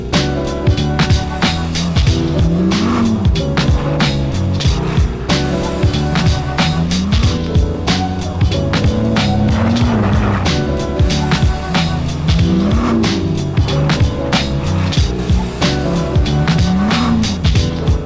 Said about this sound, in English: I guess in Finland you can just drive your car straight up the slope.